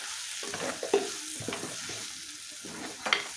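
Masala roasting in a pan for crab roast, sizzling steadily while a spoon stirs and scrapes in short repeated strokes, with a couple of sharper knocks against the pan.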